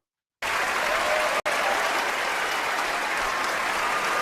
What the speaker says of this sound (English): Do I have my applause still? Come on.